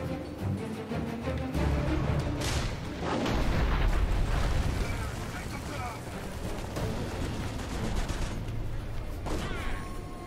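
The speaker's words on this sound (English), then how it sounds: "We're going to fire the cannon." In the Dungeon Siege 3 video game, a cannon fires and a cave entrance collapses into heavy rumbling booms and crashing debris, loud and sustained, with voices talking over the battle.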